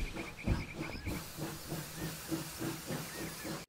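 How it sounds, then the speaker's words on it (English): A storybook train sound effect: a steady, rhythmic chugging of a steam train on the track with soft hissing, moderately close and alone, ending abruptly. "The train chugged around the loop a few times."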